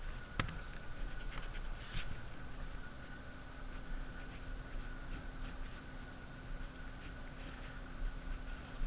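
A pen or pencil writes out a denominator for a rational-expression math problem, faint scratchy strokes and light taps in short irregular bursts over a quiet background hum, with no talking.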